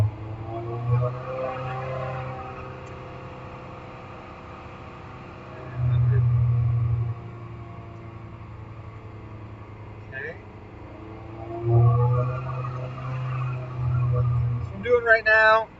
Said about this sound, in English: right now is I'm loading the car at 60 miles an hour